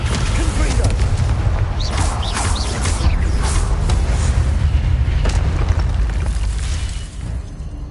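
A Confringo blast spell fired in Hogwarts Legacy, with loud, dense booming and crackling explosions that roll continuously for several seconds, mixed with game effects and fading slightly at the end.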